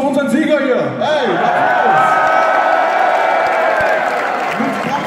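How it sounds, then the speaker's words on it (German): A concert crowd at a rap show in Leipzig cheering and applauding a winner, a loud sustained roar of clapping and whoops, with shouting voices carrying over the noise. "Dann einmal Applaus für unseren Sieger hier."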